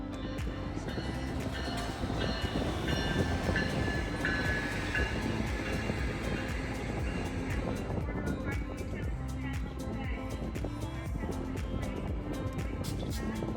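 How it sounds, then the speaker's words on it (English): Capital Corridor Train 727 rumbles into a station platform and stops: a steady, moderately distant rail rumble with clicking wheels and faint squeals, and some talk in the background. "catch Capital Corridor Train 727 as it makes its stop"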